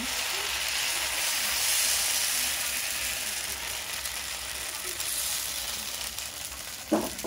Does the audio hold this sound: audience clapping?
no